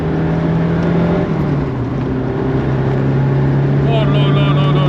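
A Renault 5 Turbo 2 engine roars at high revs on the road, heard loud and sustained from inside the car as the pitch climbs steadily through the gears.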